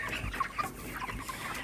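Broiler chickens around 29 days old in a farm house, several soft clucks and chirps overlapping at moderate distance over a quiet background.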